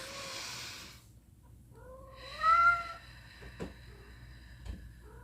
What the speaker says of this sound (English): I gotta throw something at my cat.